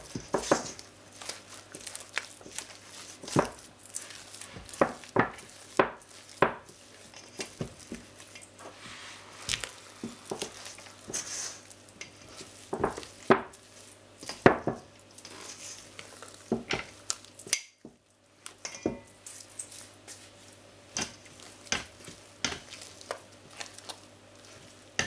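Churro dough for gluten-free churros is being mixed in a bowl, giving soft squishy, sticky stirring sounds with scattered clicks and taps throughout, close and fairly quiet, with no talking.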